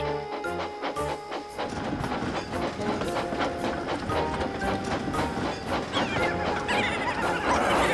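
A train rumbles and clatters continuously, with rhythmic clicking of wheels on track and a loud mechanical din throughout.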